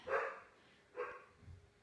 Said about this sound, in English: that's one of my dogs barking in the background